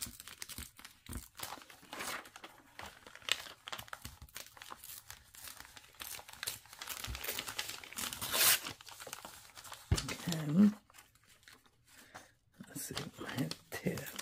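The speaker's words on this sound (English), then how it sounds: "Trying to be careful and not tear it too close to the stem." Paper is torn slowly and carefully for a junk journal cover, giving intermittent rips and crinkles up close, with soft speech now and then.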